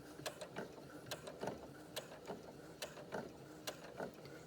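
Sewing machine stitching slowly across a seam of a knit headband, a quiet irregular series of mechanical clicks and ratcheting ticks, close and alone without talk.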